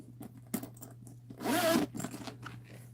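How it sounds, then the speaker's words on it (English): The metallic zipper on a small bag slides open in one brief, raspy pull, set among softer handling rustles and clicks over a low steady hum. "And then the zipper pulls"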